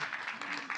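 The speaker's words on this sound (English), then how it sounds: "Give him applause." Audience applause for a volunteer at a talk on augmented reality design, a short burst of clapping filling the room, with speech-like voices mixed in.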